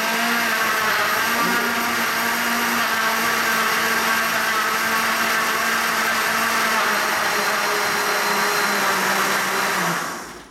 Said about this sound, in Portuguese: Vou colocar no liquidificador, para o nosso processo ser mais rápido, tá?